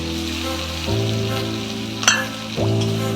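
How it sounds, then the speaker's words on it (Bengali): Spice paste sizzles as it hits hot oil in a pan with vetki fish, a loud, steady frying hiss that surges when the paste goes in and again a little later, with a brief stirring clatter between. "এইবার আমি মশলার পেস্টটা এর মধ্যে দিয়ে দেবো"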